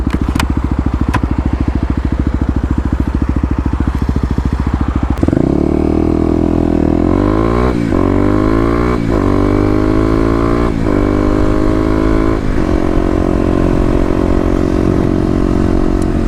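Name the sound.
Kawasaki KLX250 motorcycle accelerating away from a traffic light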